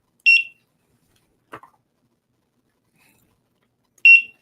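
Barcode scanner at a comic-shop checkout terminal beeping as comic books are scanned: two short, sharp, high beeps about four seconds apart with a faint click between, otherwise quiet.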